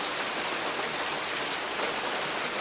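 Steady rain falling outdoors, a dense even hiss of drops on surfaces with no pauses, close and fairly loud throughout.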